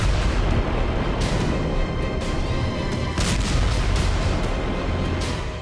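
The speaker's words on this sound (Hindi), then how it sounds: "काला सागर ड्रोन में लगाए गए विस्फोटक के धमाकों से धधक उठा" Rumbling explosions and booming bursts from explosives on a drone in the Black Sea pile up in a dense, loud, continuous barrage.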